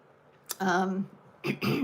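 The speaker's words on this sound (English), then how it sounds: "And I'm getting a little cough." A person clears their throat twice in quick succession, a short raspy burst then a second, close and fairly loud.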